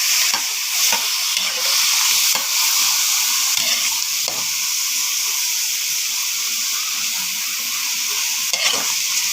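Broccoli hits a hot pan and is stirred, giving a steady loud sizzle and hiss with scattered scraping clicks of the stirring throughout, no voices.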